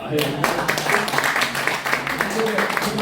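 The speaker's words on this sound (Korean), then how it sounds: "박수 한번 칩시다" Applause from an audience at a lecture on the Korean economy, a scattered run of clapping hands heard close, with a voice talking over much of it.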